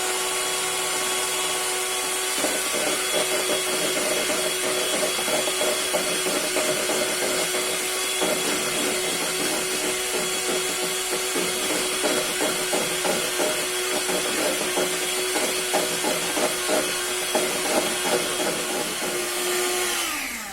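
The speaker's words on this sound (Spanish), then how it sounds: "Vamos a utilizar la batidora a máxima velocidad" An electric mixer whirs steadily at maximum speed, a loud constant motor drone with a rattling beater texture, running alone until it cuts off at the end.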